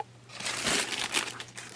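Sneaker packaging paper crinkles and crushes as new Adidas Alphabounce Beyond shoes are unboxed, a close, continuous rustle that swells midway and then tapers off, with no voices.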